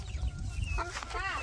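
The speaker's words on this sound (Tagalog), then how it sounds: "Sana may nangitlog sa kanila guys para may ulam si Noah at Kazumi." Hen clucking in a backyard coop, a short close run of throaty clucks over low background rumble and noise.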